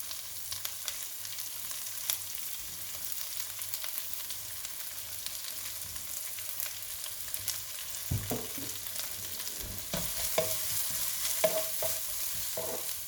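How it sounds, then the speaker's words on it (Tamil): Onions frying slowly in oil on low heat for a Sri Lankan crab curry, a soft continuous sizzle with occasional stirring scrapes growing a bit louder toward the end. "இப்போ லோ ஹீட்டில் கொஞ்சம் இதை ஆனியன்ஸ் நல்லா கோல்டன் கலரில் வர மட்டும் ஃப்ரை பண்ணுவோம்"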